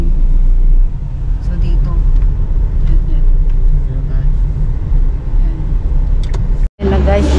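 Steady loud traffic rumble from a highway beside a shopping mall parking lot in Sto. Tomas, Batangas, continuous and close, with someone talking briefly over it.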